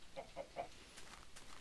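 A few soft, synthetic-sounding Minecraft chicken clucks repeat in quick succession, fairly quiet and close, followed by faint scattered background noise.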